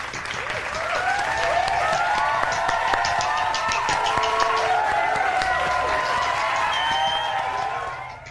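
Podcast hosts applaud with a burst of crowd-style clapping, cheering and whistles. It holds loud and steady for several seconds, then fades out at the end.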